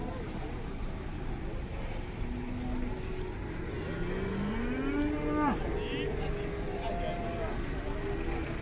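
A cow with a broken leg moos, one long rising-and-falling call in the middle over steady background noise and a distant engine hum.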